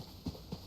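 Two quick, soft hoof thuds come from Nimbus, a horse in a video game, in a very brief moment of galloping.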